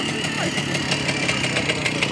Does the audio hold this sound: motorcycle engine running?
yes